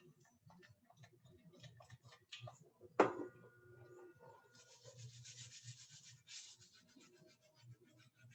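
Rubbing out a drawn graph on a board during a grade 9 maths lesson: faint, rapid scratchy rubbing strokes, one sharp knock partway through, then a steadier brushing hiss, quiet and with no talking.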